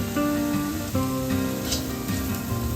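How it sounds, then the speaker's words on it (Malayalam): Chicken masala with coriander powder sizzles and fries steadily in ghee, a loud continuous hiss with a faint tonal hum underneath and no voices. "നമുക്ക് വഴറ്റിയെടുക്കാം"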